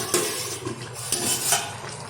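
A metal lid lifts off a pot of ghugni made with goat meat and fat, giving brief clinks and scrapes of metal against the rim over a soft simmering hiss.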